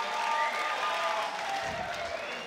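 Crowd at a cruiserweight boxing match applauds after six rounds, a dense roar of clapping mixed with cheering across the arena, loud at first and easing slightly, with a faint tonal hum running underneath.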